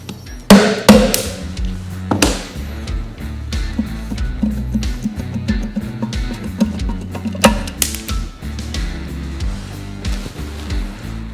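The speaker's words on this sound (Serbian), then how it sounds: "Sad ćemo malo opet čuk sa gumenim čekićem i ono mora da siđe dole." A rubber mallet knocks on a part of a BMW R60/7 motorcycle during workshop disassembly, producing repeated dull thuds at irregular intervals, close and fairly loud, with faint metallic clatter between blows.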